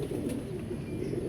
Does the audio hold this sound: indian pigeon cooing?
yes